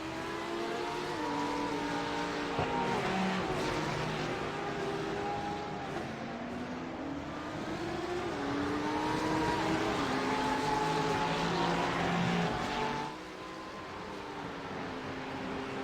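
GT3 race cars, including a Ferrari and Porsches, roar around the Circuit of the Americas, their engine notes rising and falling through gear changes in a continuous loud drone that drops slightly near the end.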